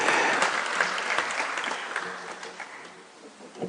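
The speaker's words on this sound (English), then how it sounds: "let's clap as they're coming, as a sign that this is something that we all agree with" An audience at a heritage conference in Kenya applauds, dense and steady clapping from a large crowd filling the whole moment, slowly tapering but sustained.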